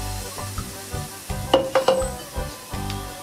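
Mayongchid fruit sauce being stirred in a pot on a gas stove as it comes to a boil, soft bubbling and sizzling with a few sharp spoon clinks against the pot in the middle, no voices.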